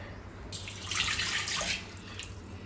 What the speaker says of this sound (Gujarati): થોડુંક ઠંડુ પાણી નાખી દેવું